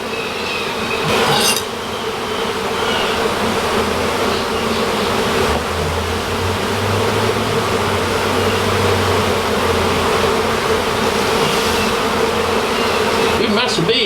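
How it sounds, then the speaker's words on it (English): Dense, steady buzzing of a mass of bees swarming around a shed floor, a continuous close hum that runs throughout with a low rumble beneath. "Good mess of bees."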